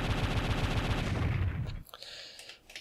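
Rapid bursts of automatic gunfire in the video game Mega Man ZX Advent, loud and continuous, cutting off abruptly into quieter ambient sound.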